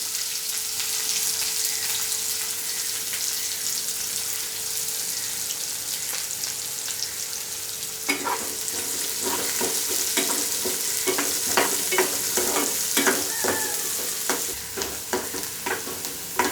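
Finely chopped onion frying in a pan, a steady hiss for the first half, then frequent rhythmic scrapes and knocks of a spatula stirring over the continuous sizzle, near and without talking.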